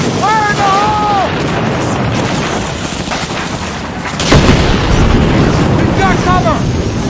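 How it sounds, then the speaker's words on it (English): An explosive charge blows a fence on a beach assault in Medal of Honor, a sudden loud boom midway through a noisy battle ambience of wind and rumble, with whistling shells or cries before and after. "let's blow this fence! Fire in the hole!"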